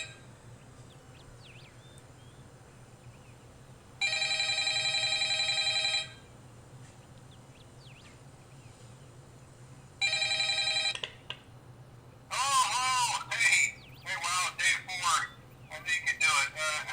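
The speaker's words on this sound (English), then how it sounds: "this is actually the ringtone on my phone" A phone ringtone inside the video game Everlasting Summer chimes in two separate two-second bursts, loud and clear over a low background hum, then gives way to lively voices.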